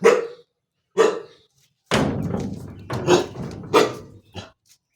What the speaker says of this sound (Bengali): এবার আমি তোমাদেরকে দেখাচ্ছি কুকুরটা বা ঝাঁঝ কতটা